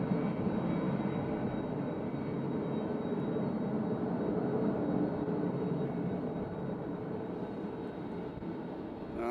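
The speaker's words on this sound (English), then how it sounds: "Here's a little ABX back. Where's this ABX going? I guarantee it's another MD-11 flight." An ABX cargo jet, likely an MD-11, at UPS Louisville airport gives off a broad, steady engine roar, fairly distant and constant throughout with no talk.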